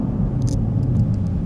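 A car with a built transmission and bolt-on upgrades idles with its engine running up close, giving off a steady, heavy low rumble with slight surges and a few faint metallic clinks.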